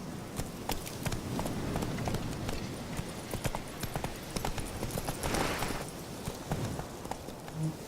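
Roach, Geralt's horse in The Witcher 3: Wild Hunt, gallops with a steady, fast run of hoofbeats that carries on throughout at moderate volume, with no talk.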